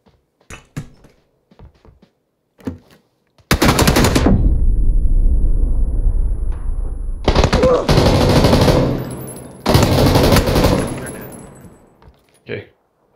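Gunfire in the video game PlayerUnknown's Battlegrounds, long loud bursts of rapid automatic fire in three close volleys, with scattered shorter shots and clatter between them.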